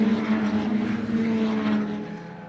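Ferrari 488 Challenge Evo race cars at Watkins Glen roar past in a loud, sustained engine drone with strong steady harmonics, easing slightly toward the end.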